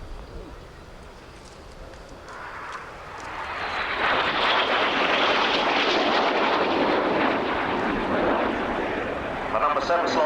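Jets of an RAF aerobatic display team at the 1989 RAF Scampton airshow, the main section returning with one aircraft rolling inverted as another joins; a broad roaring engine rush swells after a few seconds and stays loud, with a commentator talking throughout.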